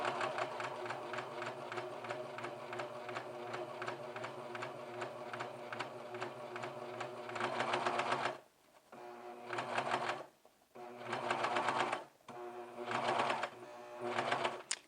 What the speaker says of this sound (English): make sure that you see that the needle is hitting the edge of the fabric as you're sewing